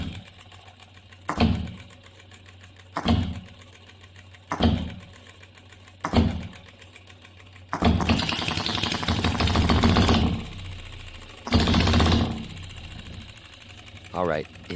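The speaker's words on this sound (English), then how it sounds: "you can pull the governor device open by hand to check if the engine runs smoothly from low to high speed" An OKMO B02 engine sputters in short bursts roughly every one and a half seconds, then runs up into a sustained higher-speed roar before dropping and surging again, loud and close.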